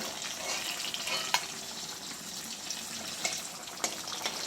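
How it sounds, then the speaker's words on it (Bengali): Raw oil fries food in a pan with a dense, continuous sizzle, close and fairly loud, punctuated by a few sharp pops and clicks of a stirring utensil. "এটাকে কাঁচা তেলে ভেজে নিচ্ছি"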